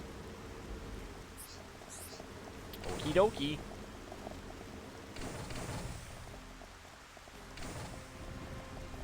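Steady rain in Xenoblade Chronicles Definitive Edition, a soft broadband hiss running through the whole stretch beneath a voice and brief louder game noises.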